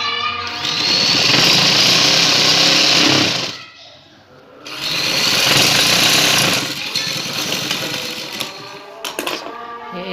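Sewing machine stitching two pin tucks along the upper side of a lace-trimmed shalwar hem: a loud, steady whirring run that pauses briefly, then starts again and keeps stitching close by.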